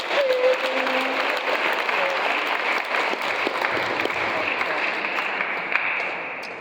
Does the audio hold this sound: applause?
yes